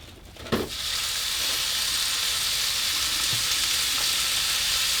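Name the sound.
ground beef frying in olive oil in a small pan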